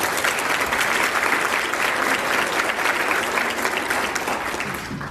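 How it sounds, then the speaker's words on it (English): Audience applause at a chamber of commerce education event honoring career tech students, a dense, steady wash of clapping from a large crowd lasting throughout and tapering slightly at the end. "Let's give them a round of applause."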